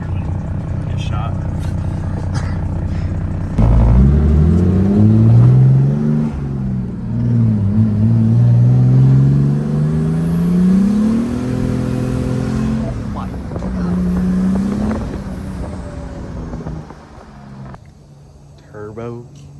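A turbo diesel Mercedes car accelerates hard nearby, its engine note rising and falling through gear changes over about twenty seconds, with a sustained loud drone that fades near the end.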